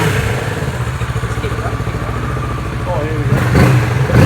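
Kawasaki Z650 2020 parallel-twin motorcycle with underslung exhaust, idling with a rapid pulsing thrum and then blipped into a short rising rev near the end; someone speaks briefly over it.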